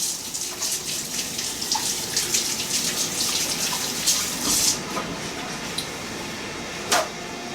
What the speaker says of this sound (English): And then I'm going to wash my hands.